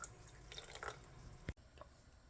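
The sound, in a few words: pouring half cup of water for sabudana drink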